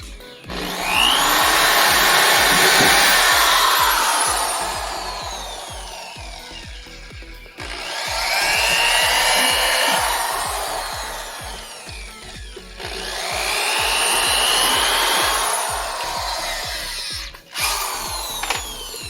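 A power drill whines through three long bursts, each rising and bogging down as the bit bores pilot holes into a 3D-printed glove, with short pauses between runs.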